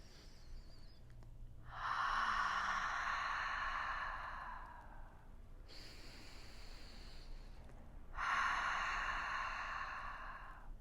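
Two deep, steady breaths during a guided breathing practice, each a long, breathy exhale through the mouth lasting a few seconds, separated by a quieter inhale, close and clear with no talking.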